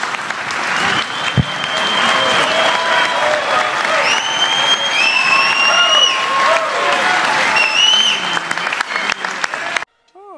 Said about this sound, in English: They're giving a standing ovation.